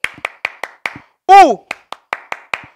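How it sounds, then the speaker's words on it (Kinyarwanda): About a dozen sharp hand claps in a quick, even rhythm, broken midway by a short, loud, sung-out vocal exclamation before the clapping resumes. "Nanjye ndahita mbakomera amashyi meza."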